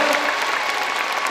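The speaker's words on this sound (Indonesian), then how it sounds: "Tepuk tangan untuk Gontor Putri 5." A seminar audience claps in a brief, dense burst of applause that fills the room evenly.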